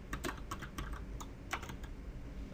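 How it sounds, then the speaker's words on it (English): Soft, uneven keystrokes on a computer keyboard enter a survey name, a short burst of close, quiet clicks heard alone. "and type a name for it."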